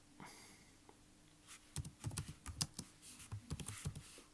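Typing on a computer keyboard: close, quick key clicks in an irregular run of short bursts, starting quietly and growing denser, with no talking.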